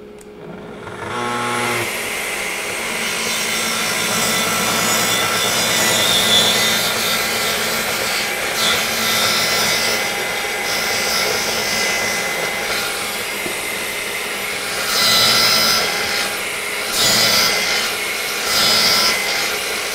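A power saw cuts through a wall panel to make an access panel opening, a loud, continuous rough buzzing and rasping that begins after a brief start and stays close throughout, with slight changes in pitch as it cuts.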